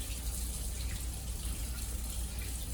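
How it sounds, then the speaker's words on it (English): Tap water runs steadily into a sink as soap is rinsed off hands during hand hygiene before a wet-to-dry dressing change, a continuous close hiss with no talking. "Now I'm going to rinse the soap off in the water."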